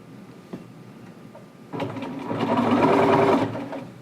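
A sewing machine stitches a cuff band onto pants in one short, close, steady run of under two seconds after a faint click, with no talk.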